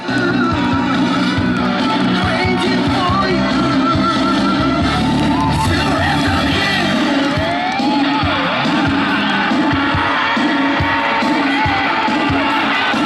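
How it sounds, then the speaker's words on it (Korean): Loud, dense crowd noise with cheering and whoops fills a school sports-day relay race for first to third graders, steady throughout with an announcer's voice partly audible over the din. "자 우리 친구들이 지나갈 때 응원의 박수 그리고 사랑의 함성 부탁드립니다."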